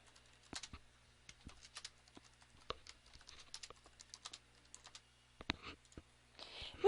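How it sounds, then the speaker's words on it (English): Clicky keystrokes on a computer keyboard while a Python program is typed, heard as quiet, irregular bursts of taps with short pauses between them, close and clear against near silence. "Let's type our program in this window."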